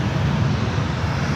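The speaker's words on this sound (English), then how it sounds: "I know you love jet noise." An Airbus A350-900 jet airliner at San Francisco airport gives a loud, steady roar of engine noise, broadband and rumbling, with no voices.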